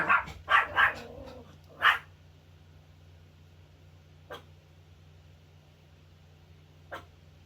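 A dog barks in a quick cluster of three near, sharp barks, then one more, with two fainter single yips later over a steady low background hum.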